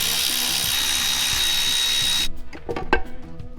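A power tool whirs steadily while backing Allen head bolts out of a Harley-Davidson drive case. It then stops, leaving a few faint clunks and rattles of metal parts.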